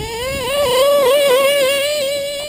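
A nitro .28 model engine revs hard with a high, buzzing whine, rising and falling steadily through the throttle before easing off.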